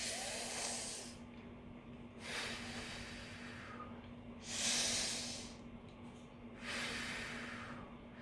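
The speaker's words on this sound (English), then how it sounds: "You could breathe like a star. You breathe in." Slow, deep breathing exercise with three or four long airy inhales and exhales in a steady rhythm, close and soft against a low constant hum in a quiet room.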